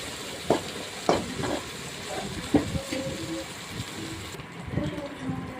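Chicken with turmeric frying in a pan sizzles steadily while a spoon scrapes and stirs, giving several sharp clacks against the pan as a voice talks over the cooking.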